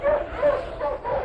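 Sled dog Bryn, a lead dog on the Labrador coast, gives short repeated yips and bow-wow barks, fairly close, in bursts across a brief stretch while a man urges the team on.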